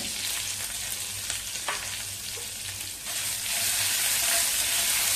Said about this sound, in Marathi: जिरे मोहरी फुललेले थोडासा कढीपत्ता टाकूया आणि मिरचीचं वाटण केलेलं ते घालूया अर्धा चमचा.